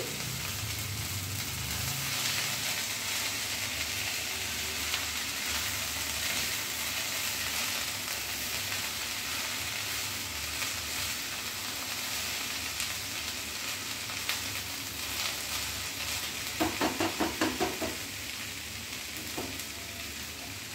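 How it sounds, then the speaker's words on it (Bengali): Shrimp stirred and mixed into a sizzling masala in a kadai for a Bengali thor (banana stem) shrimp ghonto, with a steady frying hiss throughout and brief clattering stirs of the spoon near the end. "চিংড়ি মাছটা দিয়ে আবার সবটা ভালোভাবে মিশিয়ে দিচ্ছি।"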